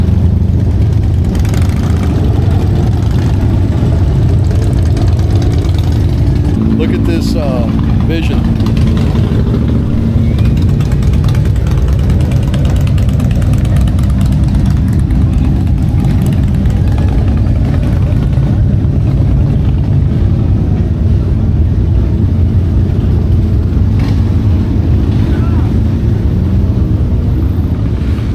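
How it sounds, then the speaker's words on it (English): Motorcycles at a rally idle and ride past, a loud, continuous low engine rumble that swells and settles throughout, while someone speaks briefly over the noise. "Now it's just motorcycles."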